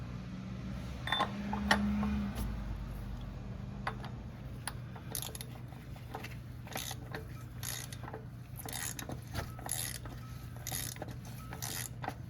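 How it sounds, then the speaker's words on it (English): A ratchet on a socket extension tightens the oil filter on a Lexus RX 350, with a run of light mechanical clicks that quickens into close, repeated ratcheting in short bursts. "now we need our tool and our socket extension"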